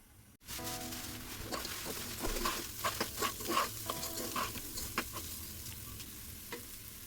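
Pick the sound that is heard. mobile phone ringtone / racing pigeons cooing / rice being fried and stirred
rice being fried and stirred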